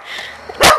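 A dog lets out a single loud, close bark near the end, preceded by faint whimpering and movement, out on a street among several dogs.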